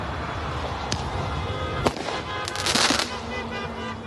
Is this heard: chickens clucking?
no